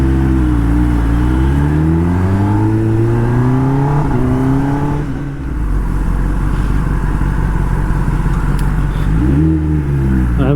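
A Kawasaki ZX10R superbike, started after sitting for weeks with a throttle body issue, revs loudly and close by in a few rising and falling sweeps, then settles into a rough idle before one more rev.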